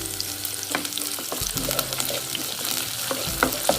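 Onions, mustard seeds, cinnamon, cloves and curry leaves sizzle in hot oil in a pan while being stirred for a spicy soya gravy, a steady crackling fry with scattered pops and occasional spoon scrapes, close and alone.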